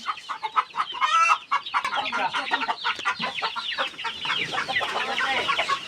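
Rhode Island Red chickens cluck and chatter close by in a continuous, busy stream of short calls, with a brief squawk near the start.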